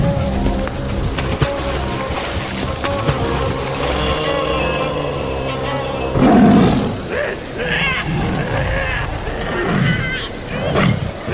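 A cartoon tiger roars loudly in a Sundarbans river setting, a long, rough growling roar over music and effects, with frightened voices shouting around it.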